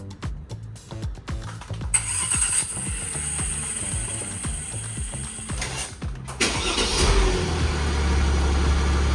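A 2017 Mercedes GLS starts by remote: a run of quick mechanical clicks and relay ticks comes first, then the engine cranks, catches and settles into a steady, close idle.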